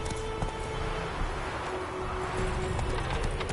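Hoofbeats of the horse Roach galloping in The Witcher 3, a steady rapid clip-clop rhythm close and continuous over a dense, noisy game background.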